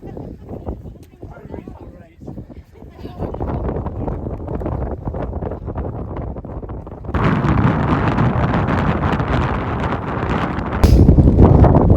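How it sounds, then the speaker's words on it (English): Strong wind buffets the microphone on an exposed hillside walk up Pen-y-ghent in the Yorkshire Dales, a continuous loud roar that grows stronger toward the end while someone talks. "It's windy as out again. It's always windy when I come out."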